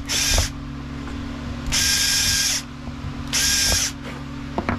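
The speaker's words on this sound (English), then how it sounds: "So now we have to drill this out." A power drill whines in three separate bursts, each lasting about a second, with a steady mechanical hum continuing between them, drilling out a part 1 millimeter oversize during a Stihl HT 131 rebuild.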